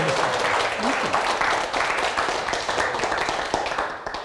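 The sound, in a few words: lecture audience applause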